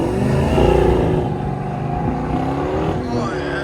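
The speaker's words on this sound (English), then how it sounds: "Here we go, Challenger HEMI." A 2015 Dodge Challenger R/T with a 5.7L HEMI V8 and Flowmaster 40 exhaust rumbles loudly up close, revving and surging with a deep throaty burble that eases and swells again.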